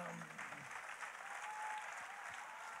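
An audience at a peace concert in Mulhouse applauds steadily and evenly, a soft, fairly distant wash of clapping that holds for the whole stretch without pause.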